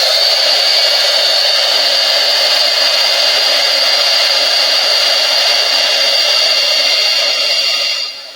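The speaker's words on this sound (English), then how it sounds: "I'm going to set it with the heat tool." An embossing heat tool blows hot air over embossing powder on an alcohol ink card background, a steady loud whooshing hiss that runs unbroken and close for about eight seconds before cutting off at the end.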